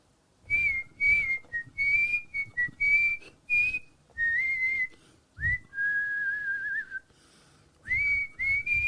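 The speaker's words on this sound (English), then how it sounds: "think I'm whistling the melody now." Someone whistles a slow melody alone, with clear sustained notes broken into phrases and short pauses between them.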